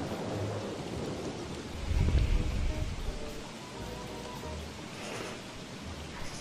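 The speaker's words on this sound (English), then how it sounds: "Stupid thunder storm." Thunderstorm in the video game Don't Starve, with steady rain and wind hiss under a low rolling rumble of thunder that swells midway, plus a few faint game sounds.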